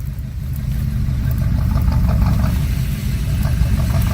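A 4WD's engine labours at steady mid revs while the vehicle is winched out, with a loud continuous low drone close by, rising slightly as it pushes on, and no talk.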